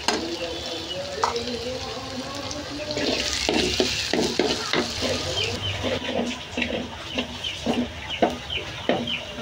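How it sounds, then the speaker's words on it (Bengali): Two or three dried red chilies and a little cumin crackle and sizzle in hot oil in a pan, a steady close frying hiss with small sharp pops throughout. "তেলের সাথে ভালো মতো ভেজে নেব। সাথে দেব 2-3টা শুকনো মরিচ আর একটু জিরা।"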